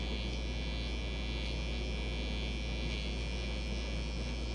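A cordless Andis hair clipper or trimmer buzzes steadily while finishing an edge up along a hairline. It makes a faint, continuous electric hum close by, with no talking.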